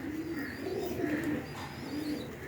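Pigeons kept as a pair for sale coo in low, steady rolling calls, close and continuous over a soft background hum, with a faint higher chirp drifting above.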